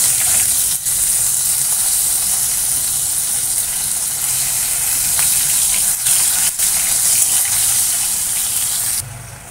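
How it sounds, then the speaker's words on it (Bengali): Tomatoes fry in oil in a pan after a black cumin tempering, ready for a fish curry, giving a loud, steady sizzle that hisses on without a break and no voices. "একটু ভাজা ভাজা হোক, তারপরে মশলাটা ঢেলে দেবো।"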